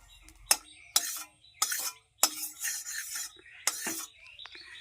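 Roasted cumin and chili are ground by hand for a jujube pickle, with about six sharp, gritty rasping strokes in an uneven rhythm, close and fairly quiet, separated by brief pauses.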